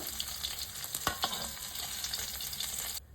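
Pabda fish frying in hot oil, a fairly quiet, steady sizzle with a few crackling pops, close by and without talk, cutting off abruptly at the end.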